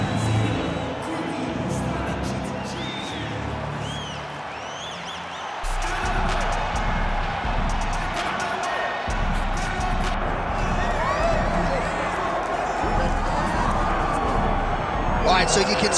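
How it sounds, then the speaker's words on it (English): Arena crowd noise from a simulated UFC fight, a steady roar of cheering and babble that swells partway through, with a commentator talking over it. "you can sort of feel an uptick in terms of the crowd energy"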